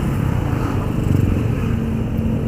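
A Yamaha Aerox 155 scooter engine drones steadily during a 2020 test ride, a continuous close buzzing hum with wind noise and no talking.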